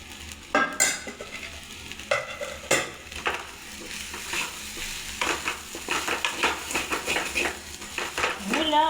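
Curry with gravy stirred in a pan, with irregular scraping and clinking of a utensil against the pan over a soft sizzle, close and moderately loud.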